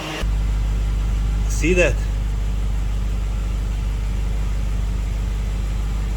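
A BMW 735i, smoking after being filled with 100 octane gas, idles with a steady low rumble close by throughout, while a person speaks briefly over it.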